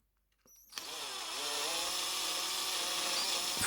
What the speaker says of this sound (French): La perceuse.